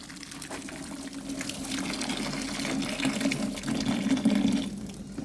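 Hot water runs into a kettle in a steady, close gushing stream, with a rising filling tone that grows slightly louder toward the end.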